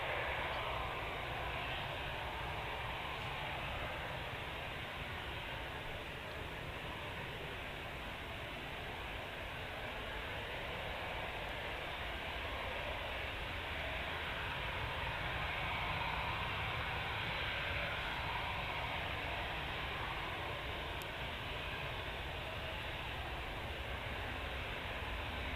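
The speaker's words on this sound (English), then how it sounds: "it's another EasyJet off to Milan. Aircraft is only 9 years old." An easyJet Airbus A320, nine years old, takes off for Milan with a steady, broad jet roar that holds loud and continuous throughout, a distant airport rumble with no voices over it.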